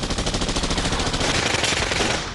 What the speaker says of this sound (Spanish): El tiroteo se intensificó.